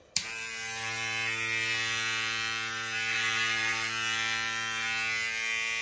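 A Panasonic Close Curves wet/dry women's electric shaver runs steadily on bare legs, giving a loud, close, continuous motor buzz with a sharp click as it switches on and no talking.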